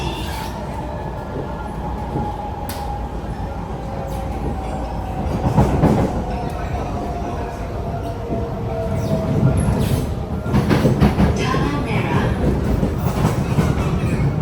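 A Kawasaki CSR C151A metro train on Singapore's SMRT line from Expo to Tanah Merah rumbles steadily along the rails with rhythmic clatter and a faint whine, heard from inside the carriage while a recorded voice briefly announces the train service ends here.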